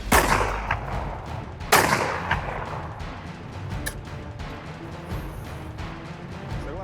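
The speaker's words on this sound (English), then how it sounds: "The shot was very loud. It was a large weapon without a silencer. A hunting rifle." A large hunting rifle without a silencer fires one loud, close shot. A booming crack is followed by a second sharp report and a long rumbling tail that fades away.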